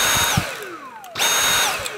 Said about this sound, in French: c'est un bouton pour actionner l'aspirateur et dès qu'on lâche pas, ça s'arrête.